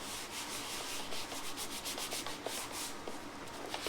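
Fingers rubbing and spreading all-in-one polish across a Rupes polisher pad, a close, steady soft scrubbing texture with light rhythmic swishes and no talking.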